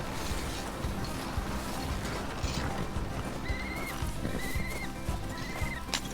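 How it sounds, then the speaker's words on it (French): A horse in the Red Dead western game whinnies in short rising calls over a dense, steady bed of clattering hooves and creaking tack, with the game's mechanical ambience running loud and constant throughout. "Jack, va enlever le cheval marron à gauche."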